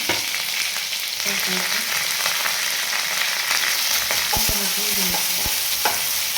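Garlic sizzles in hot oil in a pan as a tempering for spinach dal khichdi, a steady close frying hiss broken by several sharp scrapes and clinks of a stirring spoon.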